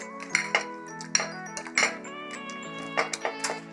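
A spoon stirs an egg and drumstick leaf mixture in a bowl, sharp clinks and scrapes against the bowl coming in quick irregular bursts with ringing tones between.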